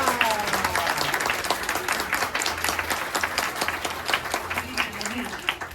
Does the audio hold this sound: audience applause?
yes